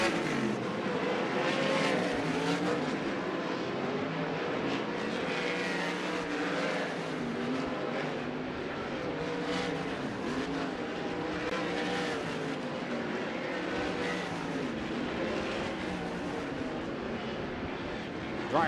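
USAC sprint cars running hot laps at Knoxville Raceway on dirt, a continuous roar of engines from several cars sweeping past, rising and falling in waves.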